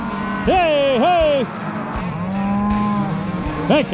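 Cattle in pens during a Montana ranch round-up give several loud, close moos in quick succession, some rising and falling in pitch, over a low background rumble.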